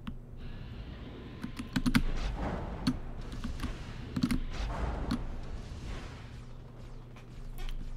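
Computer keyboard keys clack while a shooter game is played, with a held shift key and quick bursts of taps, close and fairly loud, scattered irregularly over soft in-game background sound.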